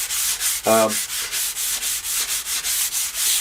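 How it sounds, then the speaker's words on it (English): Light sanding of a guitar fretboard with quick, even back-and-forth strokes, a steady rhythmic rasp close by, with one brief tonal squeak early on. "just doing some really light sanding, just to kind of get things nice and smooth"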